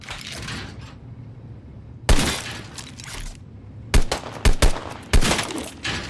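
Gunfire during target practice in the Deadrop shooter, a few sharp loud shots and short bursts in irregular clusters, with crackling impact and breaking noise between them and no talking.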